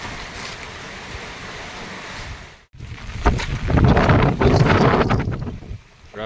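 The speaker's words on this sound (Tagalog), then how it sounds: "Lakasan ng hangin." Strong gusts of wind ahead of a typhoon roar and buffet the microphone, briefly dropping out, then surging louder with rushing, turbulent noise.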